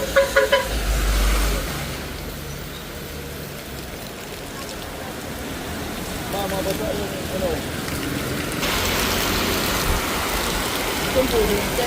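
Heavy rain drums steadily on a bus in Naga during a storm, with strong wind, a continuous broadband hiss throughout and a low engine rumble beneath; a voice speaks briefly near the start.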